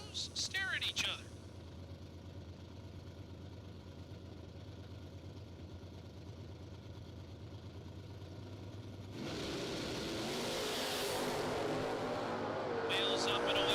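Camaro drag race cars idle with a low engine drone, then launch into a loud, rising roar as they pull away, with an announcer talking over it.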